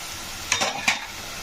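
Green chillies drop into a pan of sizzling onion paste for a crab curry, giving two quick crackling bursts over a soft, steady frying hiss.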